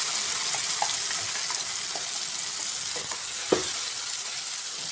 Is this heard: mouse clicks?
no